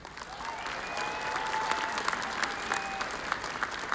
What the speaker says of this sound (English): Let's give Cheyenne a big round of applause.